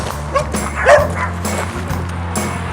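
Puppies at a farm play area give several short, close yips and barks over a low engine-like hum.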